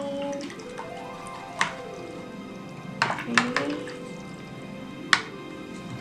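A paintbrush is swished and tapped in a container of water, with soft liquid sloshing and a few sharp clinks against the rim; a voice speaks briefly.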